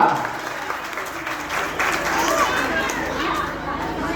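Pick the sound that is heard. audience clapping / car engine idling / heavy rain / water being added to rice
audience clapping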